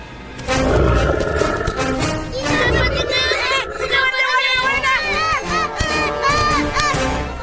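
A chaotic mix of loud lion roars and shrieking calls over a busy, crowded din, continuous and dense throughout, with layered high-pitched wails on top.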